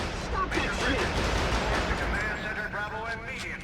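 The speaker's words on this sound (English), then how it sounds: "Step on over to the range and fire off a few shots." Rapid gunshots crack out at a shooting range in the video game Area 51 on PS2, a burst of loud close shots with game ambience, and a voice talking over them.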